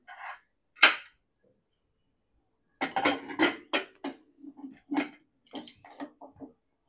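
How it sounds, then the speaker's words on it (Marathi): A pressure cooker lid is closed over a spinach, pea and paneer pulao, giving a sharp metallic clack followed by a series of light clinks and taps of the lid locking into place. "आता आपण कुकरचं झाकण बंद करू."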